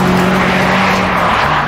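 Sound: Honda VTEC engine revving

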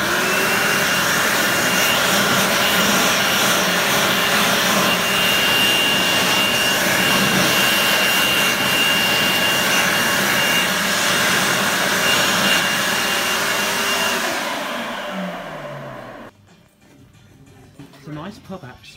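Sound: World Dryer SmartDri hand dryer running

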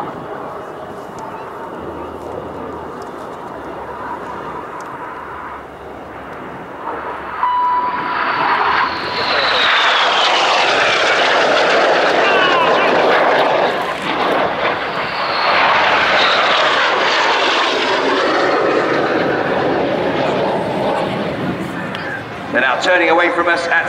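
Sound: Red Arrows display jets flying synchro pass at airshow

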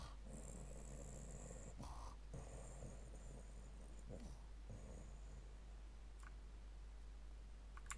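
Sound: voice imitating snoring

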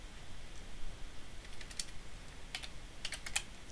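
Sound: typing code on a computer keyboard

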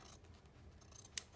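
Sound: scissors cutting fabric

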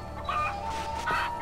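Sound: chicken clucking in the video game Far Cry 4

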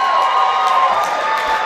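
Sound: audience applause and cheering for a gymnast

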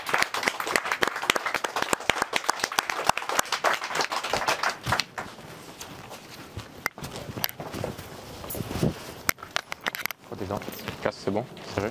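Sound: audience applause at boxing event

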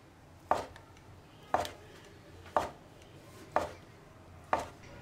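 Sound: knife slicing ham sausage on a cutting board

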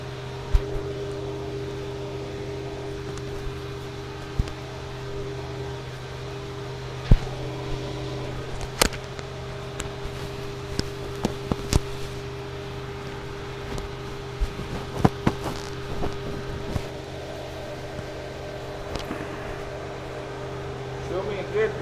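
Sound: Aptima Motors 450 eCobra roadster being driven

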